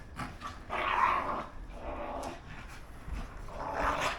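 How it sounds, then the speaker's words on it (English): Dogs growling and snarling in rough play, bursts of throaty rumbling rising and falling close by, with scuffling between. "they just go nuts for about 5 minutes"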